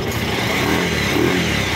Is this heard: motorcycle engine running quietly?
yes